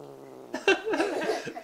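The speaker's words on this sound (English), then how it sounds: "This is the Bengal kitty." A Bengal cat meows indoors, a short, fairly close cry with a wavering, sliding pitch, preceded by a faint steady tonal hum.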